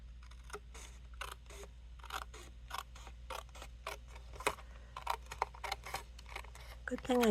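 Scissors snip and trim paper for handmade Christmas cards in a run of crisp, evenly spaced cuts, close and fairly quiet over a low steady hum.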